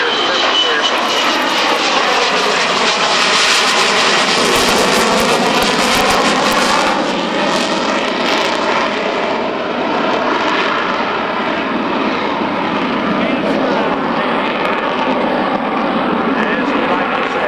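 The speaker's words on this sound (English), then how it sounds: "Lieutenant Colonel Ryan Luxinger in the F-4" A USAF F-4 Phantom II jet roars through a demo flight at an air show at Scott AFB, its loud engine noise sweeping and swelling continuously, with an announcer talking over it.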